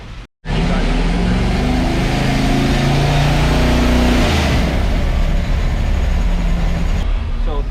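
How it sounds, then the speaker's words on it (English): A bored and stroked Ford 351 Windsor small block, 408 cubic inches and carbureted, roars loud and close in a dyno room, holding a heavy sustained rev after a sudden start. "So 351 Windsor, but bored and stroked to a 408 cubic inch."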